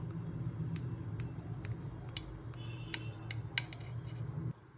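Khoi kalakand, a cooled milk sweet topped with almond powder, pistachio and saffron, being cut into pieces: a quiet run of small scraping, tapping knife strokes over a low steady hum, with no talking.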